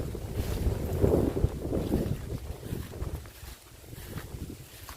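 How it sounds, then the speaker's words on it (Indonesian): Strong wind gusts across a village on a hot, sunny day, a steady loud rush and buffeting roar on the microphone that swells early on and then eases to a lower, continuous blow with no talking. "Dan anginnya sahabat ya, cukup deras ya sahabat"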